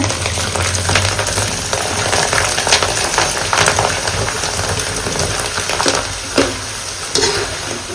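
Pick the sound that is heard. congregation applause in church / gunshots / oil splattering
oil splattering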